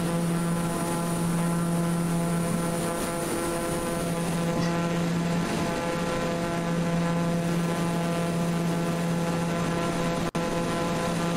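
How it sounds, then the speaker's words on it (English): TBM 930 single-engine turboprop plane in flight in Microsoft Flight Simulator 2020, a loud steady propeller and engine drone with sustained tonal hum, continuous and close, no voices. "This is a fast plane anyway."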